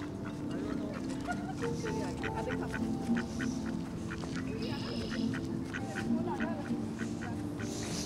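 Ducks quack repeatedly by a pond at Kariya Japanese Park in Japan, a run of nasal calls close by, mixed with people talking in the background.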